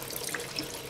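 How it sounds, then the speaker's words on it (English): Tap water running in a steady stream into a bowl while a pop pop steam boat is filled, a soft continuous hiss and splash close by with no voices. "And just put the tap on at"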